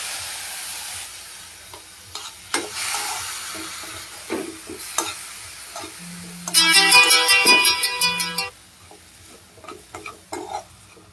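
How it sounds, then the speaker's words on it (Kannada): A sweet mixture for a bird's nest dish fries in a pan after a splash of milk, heard as scattered clinks and scraping between bursts of sizzle, with a louder, denser stretch partway through that also carries a tonal ringing. "ಇದು ಆಲ್ಮೋಸ್ಟ್ ಚೆನ್ನಾಗಿ ಫ್ರೈ ಆಗ್ತಾ ಇದೆ."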